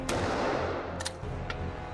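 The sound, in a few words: gunshot fired from a gun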